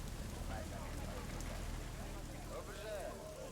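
Steady rain in the video game Deus Ex: Mankind Divided, a dense continuous hiss of drops falling over a nighttime outdoor scene, with faint tonal game sounds rising through it.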